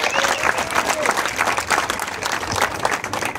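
A crowd claps together at an outdoor community sports gathering, steady dense applause filling the whole moment without a break.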